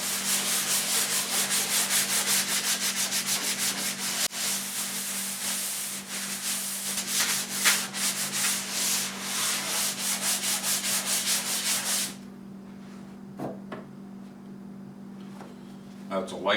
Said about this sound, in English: That's a light sanding.